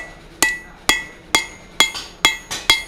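Seven sharp, ringing hammer blows strike a hot steel taper on an anvil in steady forging rhythm, close and loud, each with a short metallic decay.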